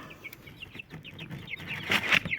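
Small chickens cheep and cluck in quick, high chirps, several birds overlapping, growing a little louder toward the end.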